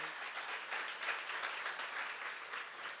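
Audience applause at a church seminar session, a continuous bed of hand clapping, fairly distant and moderately soft, for the full few seconds.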